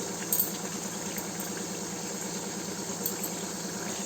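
Onions, nuts, lemon and other ingredients for mushroom biryani frying in a pot, a steady soft sizzling hiss throughout with an even hum, no talk.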